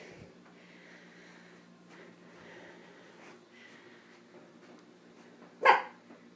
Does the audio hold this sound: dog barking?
yes